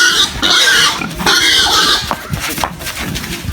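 A three-month-old pig grunts and squeals loudly up close in harsh, rasping bursts that run together, with no voices.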